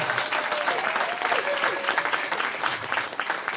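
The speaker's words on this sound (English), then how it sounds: "Give her a big round of" A folk concert audience giving a warm round of applause, dense close clapping that carries steadily for a few seconds.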